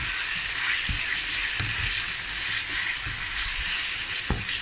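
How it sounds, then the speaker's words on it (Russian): Chicken pieces frying in a pan for Thai curry, a steady close sizzle with occasional soft knocks and scrapes as the meat is stirred. "При обжарке помешиваем. Вот так хорошо она уже начинает обжариваться."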